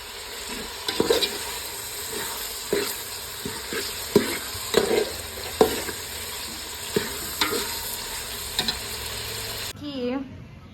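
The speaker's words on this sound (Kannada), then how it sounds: "ಅದಕ್ಕೆ ಸ್ವಲ್ಪ ಎಣ್ಣೆ ಹಾಕಿ ಸ್ಪೈಸಸ್ ಎಲ್ಲ ಹಾಕಿ ಆನಿಯನ್ನು ಮತ್ತು ಟೊಮ್ಯಾಟೋನ ಹಾಕಿ ಚೆನ್ನಾಗಿ ಫ್ರೈ ಮಾಡ್ಕೊಳ್ತಾ ಇದ್ದಾರೆ" Onion and tomato fry in oil with spices, a steady close sizzle with repeated stirring scrapes and clinks, ending abruptly in a brief quieter tail.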